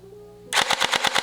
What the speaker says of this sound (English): Let's try continuous fire.